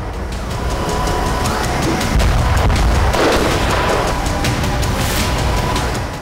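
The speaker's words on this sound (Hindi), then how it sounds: "यूक्रेन में इतने धमाके हुए कि आसमान का रंग भी बदरंग हो गया।" Explosions in war-torn Ukraine, heard as a dense, continuous rumble with a heavier low boom around the midpoint, noisy and distant-sounding throughout without speech.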